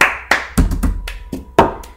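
Hand claps and taps of a cup song rhythm, a short uneven pattern of sharp hits close to the microphone, heard without voices.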